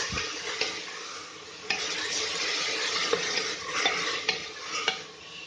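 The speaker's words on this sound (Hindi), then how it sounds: "अब थोड़ा सा हम 2-3 मिनट भून लेंगे इसको अच्छे से बटर के साथ" Vegetables sizzle steadily in a hot buttery pan over high flame, with occasional stirring scrapes and clinks of a utensil against the pan.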